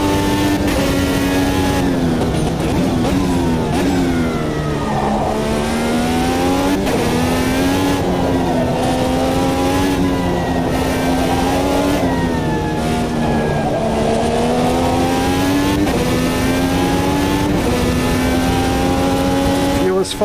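A race car engine in Automobilista 2 revs hard and continuously, climbing and dropping in pitch through repeated upshifts and downshifts, loud and close throughout with a steady mechanical whine.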